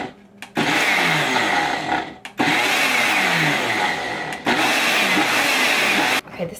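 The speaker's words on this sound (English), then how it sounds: "I might throw it in the blender at the end again" A kitchen blender whirs loudly through pumpkin spice energy ball mixture in three long bursts, each cut off abruptly by a brief pause before restarting.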